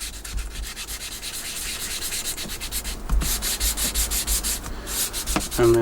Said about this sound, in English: we're still coming along with a wet sanding